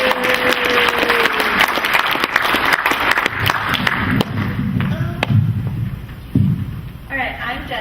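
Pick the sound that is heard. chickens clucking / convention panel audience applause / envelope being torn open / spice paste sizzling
convention panel audience applause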